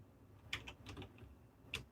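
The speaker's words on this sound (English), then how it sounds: "Yeah, angry I was typing. It's just a noisy keyboard." A noisy lighting console keyboard gives off a few faint, sparse key clicks over a low background hum, with two sharper taps standing out.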